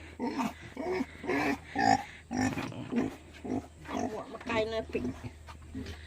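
Pigs in a village pen near Kanowit give grunting, oinking calls in short repeated bursts, fairly close and mixed in with people talking.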